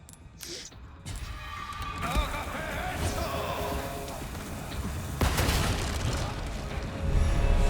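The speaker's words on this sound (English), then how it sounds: "I managed to actually get them to blow each other up." Explosions in Resident Evil 4 Remake as enemies blow each other up: dense booming blasts and crackling debris stack over several seconds, with heavy hits near the start and middle, loud and continuous.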